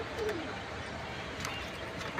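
Pigeons of Cheeta Military and Jabra Pankhi breeds cooing softly at a distance over a steady hum of background noise, with a faint chirp near the start.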